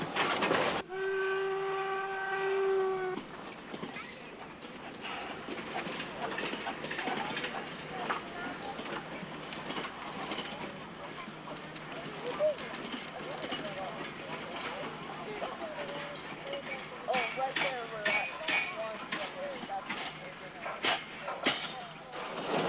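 A polished steam-era train locomotive runs nearby: a sustained horn blast opens, then continuous rumbling and clattering of wheels on rails, with intermittent clanks and squeals, while people talk over it.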